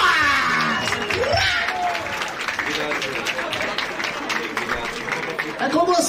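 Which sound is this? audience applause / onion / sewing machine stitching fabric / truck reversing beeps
audience applause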